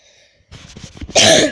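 A single short cough bursts out loudly near the end, preceded by quieter rustling and shuffling sounds during a Swedish gaming session.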